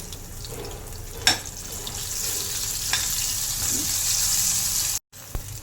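Steady sizzling of garlic and seasoning seeds frying in hot oil, continuous and close, with a couple of brief clinks and a short dropout near the end.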